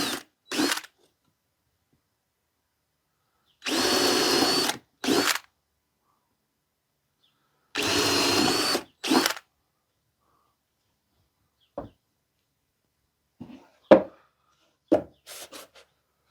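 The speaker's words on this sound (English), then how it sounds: "I'm just going to drill 3 quick holes in the bottom of this for drainage" A power drill bores three drainage holes in the bottom of a scrap wood box, loud whirring bursts separated by silences, followed by a few light knocks and handling clatters.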